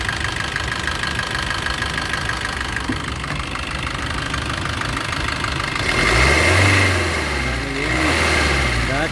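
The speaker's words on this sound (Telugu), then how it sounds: "చాలా డీజిల్ అంటే చాలా స్మూత్గా ఉంది ఇంజిన్." A 2017 Maruti Suzuki S-Cross Alpha diesel engine idles nearby with a steady, even mid-pitched hum, swelling a little louder toward the end, while a person talks over it.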